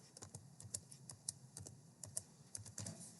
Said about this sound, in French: J'écris peut-être ce que je veux.